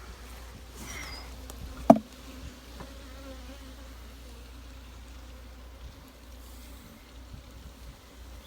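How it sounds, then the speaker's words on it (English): Honey bees hum in a soft, steady drone around an opened hive outdoors after smoking, with one sharp knock partway through and a low background rumble. "I've had noticed this hive is a little more sensitive than the other hives, so I gave them a little extra smoke."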